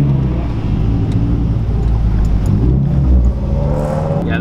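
A Mazdaspeed3 hatchback with a manual clutch, riding on coilovers, accelerating with a steady loud engine drone and road rumble throughout, rising slightly near the end, with no talking.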